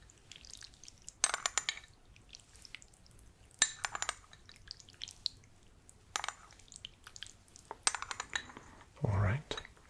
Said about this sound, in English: So let me just get a few stirs here.